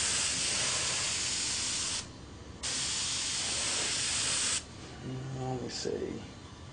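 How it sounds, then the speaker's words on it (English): A Badger Series 200 airbrush sprays in two long hissing bursts with a brief pause between, tested on the side of a cabinet, followed by a short faint puff; a voice speaks briefly near the end. "let me test actually on the side of this cabinet how big a spray,"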